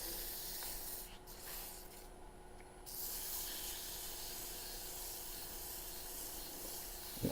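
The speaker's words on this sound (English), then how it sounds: "And then just going for sanding." Sandpaper rubs against a turned wooden sphere spinning on a lathe, a continuous faint hiss over the machine's steady hum, with a brief dip partway through.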